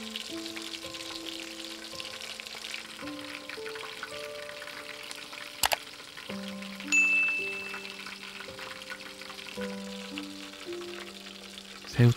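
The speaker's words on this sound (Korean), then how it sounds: "새우튀김은 두 번 튀기지 않고" Batter-coated shrimp fry in hot oil, giving a continuous crackling sizzle with a steady hiss and a few clinks of utensils, with background music playing beneath it.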